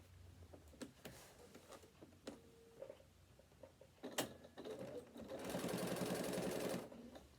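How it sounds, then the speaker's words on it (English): Sewing machine stitching around the top of a fabric bag and its lining: scattered clicks and short mechanical bursts, then a sustained run of rapid stitching near the end, fairly quiet and close. "So we're going to stitch all the way around the top"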